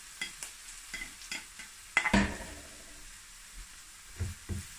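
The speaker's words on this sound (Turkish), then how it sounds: "Şimdi havucumuzu içine ilave edelim arkadaşlar." Carrots are added to a pan with softened onions and sauté in a soft, low sizzle, broken up by scattered stirring scrapes and clatter with a louder burst partway through. No one speaks.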